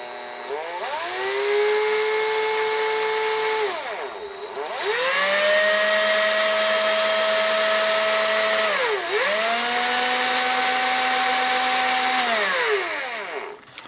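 A small power drill whines at high speed, boring a small centred hole in a vintage Micronauts Space Glider toy, running in three long bursts with brief dips as the pitch drops and recovers.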